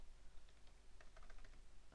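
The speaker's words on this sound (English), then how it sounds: "so in the search bar, you type." Rapid, irregular keystrokes on a computer keyboard while a search term is entered into a search bar, the clicks light and close against a faint background hiss, with no talking.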